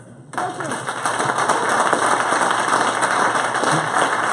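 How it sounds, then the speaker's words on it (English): Applause after a talk at a Kubernetes user group meetup breaks out suddenly and keeps going as a broad, steady wash of clapping from a modest room audience, fairly close and sustained with no break. "I'm also very happy to get a rapturous round of applause."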